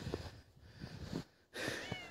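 A domestic cat meows several times in quick succession, close and fairly quiet, with a brief silent gap before a louder, longer final cry.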